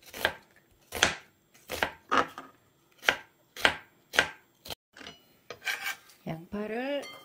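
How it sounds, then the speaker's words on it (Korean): A kitchen knife slices half an onion thinly on a cutting board, sharp rhythmic chops about every half second, close and clear, followed by a brief scrape and a short rising squeak at the end. "양파 반 개를 얇게 썰어 주세요."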